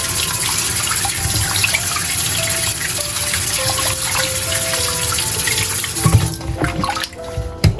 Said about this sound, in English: let's go ahead and rinse this off quickly